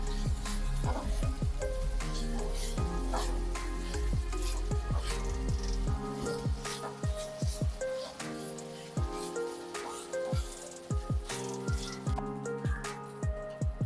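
Finely chopped coriander sautéing in a pan over a full flame for jeera rice gives a close, steady crackling sizzle with scattered sharp pops.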